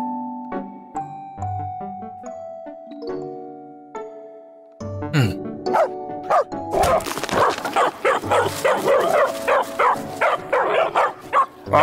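Dog sounds from the VR game You Can Pet The Dog: soft musical chimes lead in, then a run of repeated yips and barks rises loud and busy over game music in the second half.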